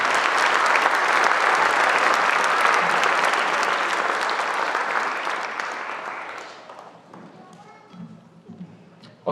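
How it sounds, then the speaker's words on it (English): Audience applause at a spring middle school orchestra concert, dense and steady at first, then thinning out after about six seconds as a few scattered claps and quiet murmurs remain. "can we give the ELEF a round of applause"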